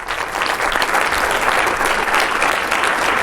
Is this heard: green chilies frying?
no